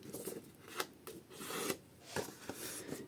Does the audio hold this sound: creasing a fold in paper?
yes